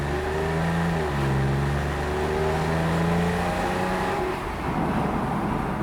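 A Porsche 911 997 GTS engine revs and growls steadily up close, its deep tone rising and falling as it accelerates, loud and continuous with no voices.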